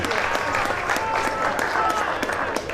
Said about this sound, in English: as Josh Burke gets clapped off the field